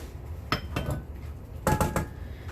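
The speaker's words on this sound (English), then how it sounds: "I'm going to use the spatula to get out a little bit that I dropped." Spatula scraping a bit of dropped melted butter in a kitchen while making gluten-free corndogs, heard as a few short scrapes and clinks against a bowl, close and alone.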